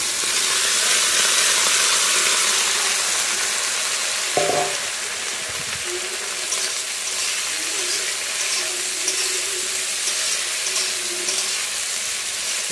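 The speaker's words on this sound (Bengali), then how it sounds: "তো বন্ধুরা এখন দিব এই যে বেগুন।" Eggplant goes into a pan of oil already frying onions and chili, giving a brief knock as it drops in, then a steady sizzle with faint stirring.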